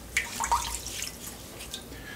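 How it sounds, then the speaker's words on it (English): Water splashed by hand onto a face over a partly filled sink, a few short wet splashes and drips close by, with no talking. "I'm just gonna wet the face"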